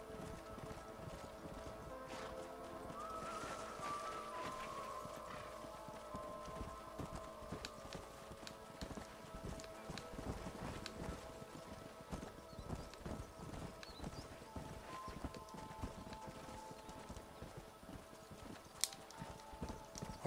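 Horses in the Western video game Red Dead Redemption, a steady stream of clip-clopping hooves at a trot with an occasional whinny, quiet and continuous over the game's ambient backdrop.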